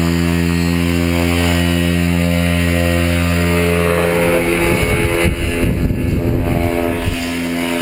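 A paramotor engine droning loudly and close in flight, its steady hum roughening and building as the throttle opens partway through.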